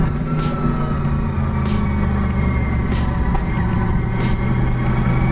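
A Honda VFR 750 with a V4 engine idles steadily in a continuous low rumble, loud and close, with a few brief higher rasps punctuating the drone.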